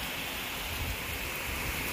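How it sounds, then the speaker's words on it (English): Rain patters steadily onto an outdoor pond, a dense, even hiss of drops hitting the water that fills the whole moment with no voices. "Oh, there, it started raining on it."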